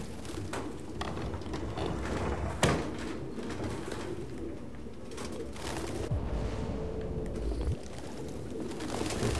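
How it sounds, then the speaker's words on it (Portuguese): A flock of pigeons cooing in Detroit: Become Human, a soft, steady murmur of coos and fluttering layered over a dense game ambience with occasional clicks and thumps. "Cacete, um bando de pombo."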